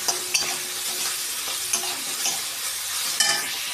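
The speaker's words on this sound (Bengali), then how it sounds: "আমার ভাজা চলছে এই মুহূর্তে" Mixed vegetables with fried green chilli sizzle steadily in a pan for vegetable chop, with a few sharp scrapes of stirring cutting through the constant frying hiss.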